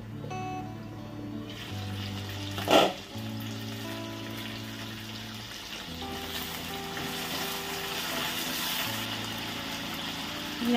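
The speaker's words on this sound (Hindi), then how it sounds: "ये आलू को थोड़ा फ्राई कर लेते हैं।" Potatoes fry in oil with tomato, onion, garlic and green chilli, a steady low sizzle held close throughout, with a single sharp clatter early on and faint background hum.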